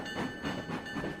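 A slow-moving train rolling along the rails, with a rhythmic clickety-clack of wheels repeating every few tenths of a second under a faint steady whine, moderately near and without voices.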